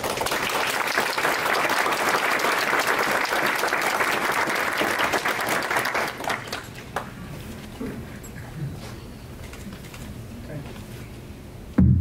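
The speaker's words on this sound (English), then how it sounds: "I would like to remind everyone to hold your applause please until the end of the school presentation" An audience claps at a scholarship award ceremony, a loud sustained round of applause for about six seconds that drops away into quieter room murmur and scattered sounds.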